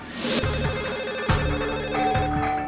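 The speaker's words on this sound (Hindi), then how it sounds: "तब तक फोन की घंटी बजने लगी" A telephone ringing in repeated electronic bursts over a steady background, close and fairly loud, with no one speaking.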